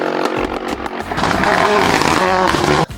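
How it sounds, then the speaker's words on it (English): Ford Escort RS Cosworth with an anti-lag system: a loud turbocharged engine revving up with a rapid rattling burst of exhaust pops and bangs, then cutting off sharply near the end. "ALS stands for anti-lag. And when you hear the pops and bangs,"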